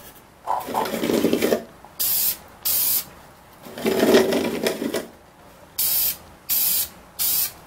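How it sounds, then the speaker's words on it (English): A spray can lays down lacquer coats on a carved name plaque in a series of close, hissing bursts: two longer sprays and several short, evenly spaced puffs separated by quiet gaps. "coats of spray lacquer here"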